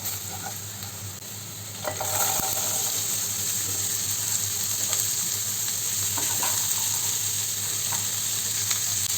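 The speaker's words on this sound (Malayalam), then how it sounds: "ഇനി ഇതിലേക്ക് നമുക്ക് അരിഞ്ഞ് കഴുകി വൃത്തിയാക്കി വെച്ചിരിക്കുന്ന ബീൻസും ക്യാരറ്റും ചേർത്ത് കൊടുക്കാം കേട്ടോ." Chopped beans and carrots sizzle steadily in a hot pan for a Kerala thoran, the frying growing louder after a couple of seconds with faint stirring scrapes and no talking.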